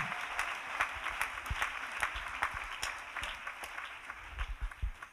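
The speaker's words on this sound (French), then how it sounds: "Clap offering to Jesus." A congregation at a national Bible camp applauds together in worship, a dense sustained wash of clapping from a large crowd, moderately distant and fairly quiet.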